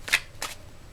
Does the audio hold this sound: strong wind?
no